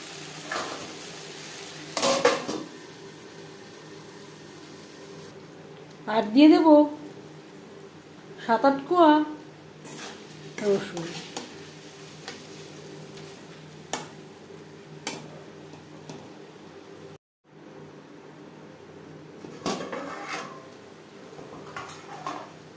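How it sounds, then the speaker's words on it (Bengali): Katla fish fat cooks in a pan over a low-to-medium flame and is stirred, with occasional sharp utensil clanks and scrapes over a faint sizzle. A person talks at intervals between the stirring. "মাছের তেল বেশ ভালো করে মিক্সড করে দেব"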